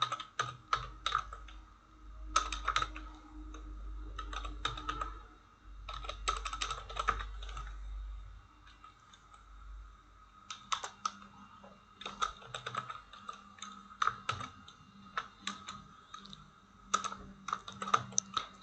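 Fingers type on a computer keyboard in irregular bursts of rapid clicking with short pauses between, close and clear under a low steady hum.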